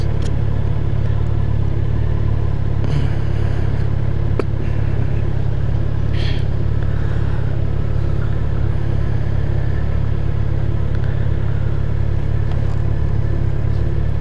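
A car driving through downtown Atlanta rolls up to a traffic light, its engine rumbling loudly and steadily from inside the cabin as it slows and idles, with no talk.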